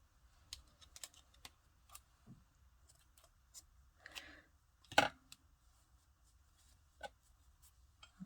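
Scissors snip a yarn tail, with a few quiet, close clicks and a brief crisp cut among soft handling sounds.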